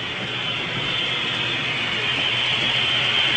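A model train runs along a club layout with a steady, even rumble and hiss that grows slightly louder as it approaches, with no one talking.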